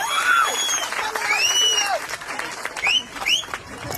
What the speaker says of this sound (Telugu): చప్పట్లతో స్వాగతం పలకాలని తెలియజేస్తున్నాం